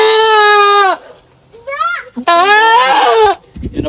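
A goat bleats loudly nearby in three wavering calls with short pauses between them, the last cry long and quavering, followed by a bit of rustling.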